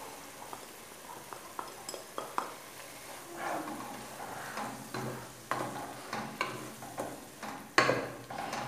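Tomato, garlic and spices cook in a pan with a soft, steady sizzle, while a utensil stirs and scrapes at irregular intervals and gives an occasional sharper clink against the pan.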